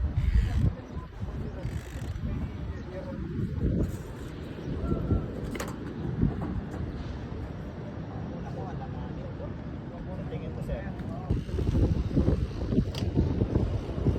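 Strong wind buffets the microphone on a rooftop in a constant low roar, gusting louder at times, with faint voices underneath.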